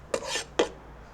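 Two quick scraping clinks of a spoon pushing a mint and sugar mixture into a bowl, close and dry, spaced about half a second apart.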